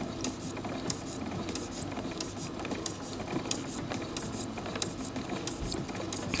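A sewing machine runs at its slowest speed with fabric being guided by hand, giving a quiet, steady mechanical chatter of rapid ticks that continues evenly throughout, with no talk.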